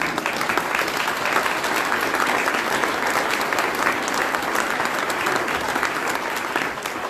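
Dense, steady audience applause at an outdoor civil rights trail unveiling event, loud and continuous for several seconds before easing slightly at the end.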